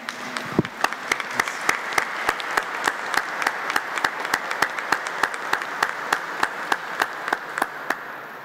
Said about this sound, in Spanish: Le damos un aplauso al Padre Gustavo.